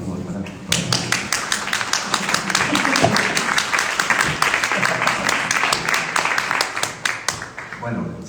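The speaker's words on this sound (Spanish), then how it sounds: "Un aplauso, por favor, para todos." A festival audience applauds a film's cast and director at a screening, a dense, sustained burst of many people clapping close by, steady for several seconds before tapering, with a voice briefly audible underneath.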